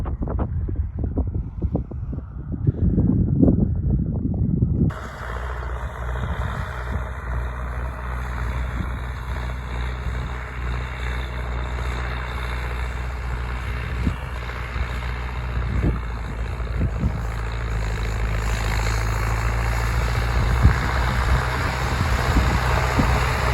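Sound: tractor engine running

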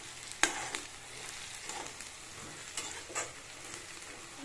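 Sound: onions frying and browning in a pan

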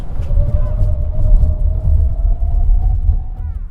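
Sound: BMW i5 M60 xDrive braking hard on track

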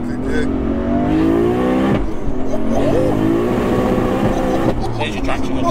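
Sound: 1100bhp 2JZ turbo Lexus accelerating in second gear

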